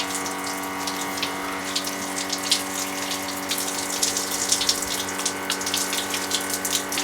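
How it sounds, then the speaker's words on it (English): Hot water pours steadily from an off-grid rainwater shower, a continuous close hiss and gush with a low pump hum running beneath it. "it's actually steaming like a proper shower"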